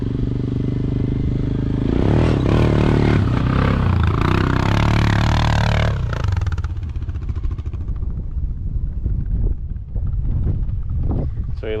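An ATV engine strains loudly while climbing a steep rocky hill, its pitch rising under heavy wind noise. The engine then drops to a quieter, uneven idle with clattering.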